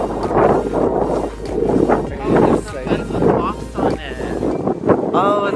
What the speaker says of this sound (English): It's a little windy and cold